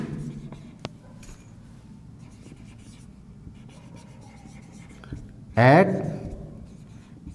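Marker or chalk strokes on a classroom board scratch out in short bursts, ending with one louder squeaky scrawl, while a teacher talks through a maths lesson.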